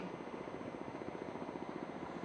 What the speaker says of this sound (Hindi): बाईं तरफ से मंच के सामने आ रहा है अगला हेलीकॉप्टर कामोव 31